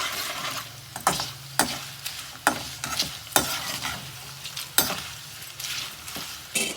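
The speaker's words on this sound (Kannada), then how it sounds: "ಜಜ್ಜಿರೋ ಬೆಳ್ಳುಳ್ಳಿ, ಹಾಗೆ ನೀಟಾಗಿ ಗಣದ ಮಾಡಿಕೊಂಡು ಚೆನ್ನಾಗಿ ಆಯಿಲ್ ಚೆನ್ನಾಗಿ ಡೀಪಾಗಿ ಫ್ರೈ ಆಗಬೇಕು." Crushed garlic deep-fries in hot oil on a stove while a spoon stirs it, giving sharp scraping clinks in an irregular rhythm over a low, continuous sizzle.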